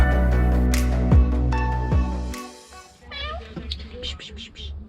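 Cats meowing near a parked van on Turkey's Black Sea coast, a few short rising calls after a loud low rumble, with the cries coming close together near the end.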